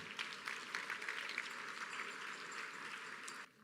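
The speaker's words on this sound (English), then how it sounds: "Give them a big round of applause." Audience applause at an Eight Over Eighty event honoring elders, a steady wash of many hands clapping for about three and a half seconds before cutting off abruptly, with no voices over it.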